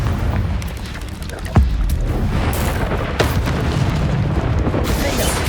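A Confringo blasting spell explodes in Hogwarts Legacy, landing as one sharp, heavy boom amid dense, loud combat noise, followed by a lighter impact a couple of seconds later.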